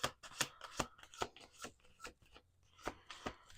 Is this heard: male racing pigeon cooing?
no